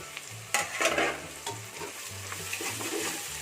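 Green chillies and masala being sautéed for mutton biryani produce a close sizzle with repeated spatula scrapes and clatters against the pan, in uneven bursts over a low steady hum, with no talking.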